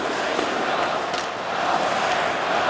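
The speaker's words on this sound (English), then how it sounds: "Crowd comes alive." Hockey arena crowd at an Edmonton Oilers versus Calgary Flames NHL game, a broad steady roar of cheering that holds loud and continuous throughout.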